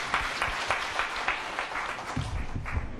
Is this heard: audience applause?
yes